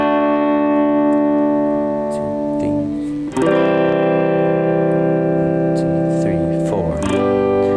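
An electric guitar strums four chords, with sustained ringing chords and a clear chord change partway through, played close and loud, and a voice faintly present beneath the playing.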